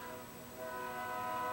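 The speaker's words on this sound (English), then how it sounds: "Pardon the train in the background." A train passes in the background, its horn blowing as a long, steady tonal blast that holds and swells slightly louder through the clip, with rumbling rail noise underneath.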